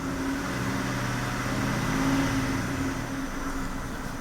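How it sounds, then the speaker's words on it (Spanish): A 2005 Kia Sorento with its check-engine light on and an ignition misfire fault runs with a steady, fairly loud engine hum that swells slightly midway as it is revved, then settles back. "Lo acelero, miren."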